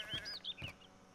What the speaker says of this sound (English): That sheep sounded really close.